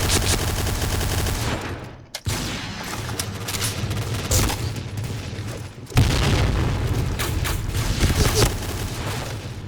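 Noveske N4 rifle fire in the shooter game Point Blank, with dense continuous bursts of rapid gunshots and booms, broken by two brief pauses, loud and close throughout.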